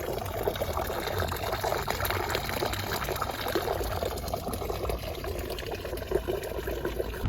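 Water runs from a campground spigot into a Scrubba wash bag for camp laundry, a steady pouring and trickling wash that continues unbroken, fairly close and moderately loud.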